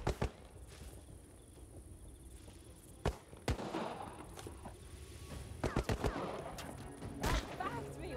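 Gunfire in the World War II shooter game Partisans 1941: sharp, scattered shots crack at irregular intervals, some in quick clusters, over a steady background hum of the game's battle ambience.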